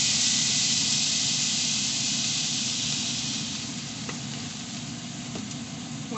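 Garlic sizzling in half a stick of melting butter in a pan on low heat, a loud, steady hiss that eases slightly toward the end, with a couple of faint clicks and no voices.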